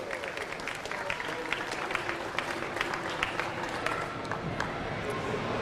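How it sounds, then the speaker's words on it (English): Audience applause for the junior female podium at the Queensland State League youth and junior lead climbing titles, a steady, dense crowd clapping that holds at an even loudness throughout. "Ladies and gentlemen, one more big round of applause for our junior female podium for the Queensland State League titles."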